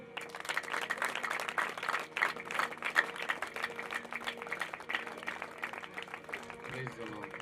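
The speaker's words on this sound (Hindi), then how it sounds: "परमेश्वर के लिए जोरदार तालियां।" A church congregation at a Sunday live meeting applauds in sustained, dense clapping mixed with voices and crowd noise.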